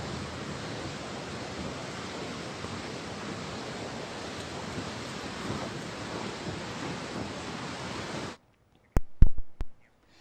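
Flood waters surging through a river in Nepal, a steady broad roar of rushing water that runs unbroken for about eight seconds, then cuts to a few sharp thumps.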